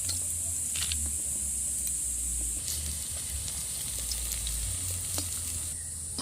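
Battered kulekhara leaf pakoras fry in hot oil, giving off a steady, close sizzling hiss with a few sharp crackles and pops along the way and no talking.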